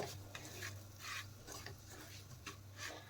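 Semolina being fried and stirred in plenty of ghee for mawa gujiya, giving a steady scraping, rasping stir with soft sizzle and repeated sweeps of the spoon across the pan, close and fairly quiet with no talk.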